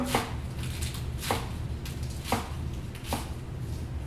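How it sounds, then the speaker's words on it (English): Knife chopping rolled-up leafy greens into ribbons on a cutting board, four separate sharp chops spaced about a second apart over a steady background hum, no talking. "kind of like a big fat cigar, and chop them."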